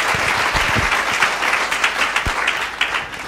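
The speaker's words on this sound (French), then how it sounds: "Je vous demande de les applaudir quand même parce que ils se mettent en avant." An audience applauds show guests on a broadcast about blogs, a dense, continuous clapping crowd with a few louder close hand strikes, holding steady throughout the few seconds.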